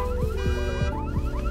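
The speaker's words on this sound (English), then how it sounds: "All the car alarms!" Car alarms blare in the video game SCHiM, with several whooping, warbling electronic tones repeating in quick cycles, loud and close, with nobody talking.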